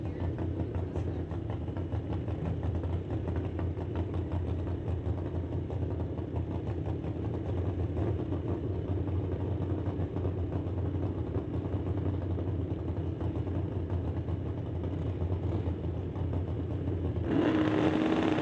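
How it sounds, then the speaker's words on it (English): Drag racing motorcycles in the Super Gas class at an NHRA drag strip, a steady loud engine drone running throughout, swelling slightly louder near the end. "Bikes are running in the super gas category"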